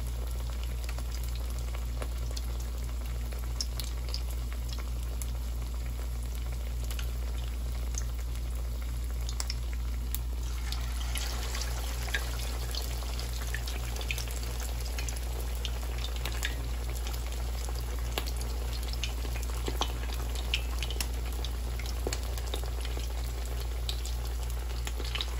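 Seafood cakes fry in medium-hot oil in a pan, a steady crackling sizzle with fine spattering pops running throughout, close and even, with no voices.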